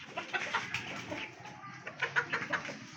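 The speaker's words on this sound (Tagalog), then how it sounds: "maganda yung kalapate na to. Kaso napakalikot." Pigeons held in the hand give soft, faint coos and small fluttering clucks in short irregular bursts, close to the listener with no talking.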